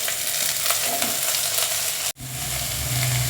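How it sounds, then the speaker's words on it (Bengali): Onion and potatoes frying in a little oil for a Bengali white potato chorchori, a steady close sizzle and crackle with a brief dropout partway through, no talking. "অল্প তেলের এটার মধ্যে আমি কী করবো, পেঁয়াজটা একটু ভাজা হয়ে গেছে"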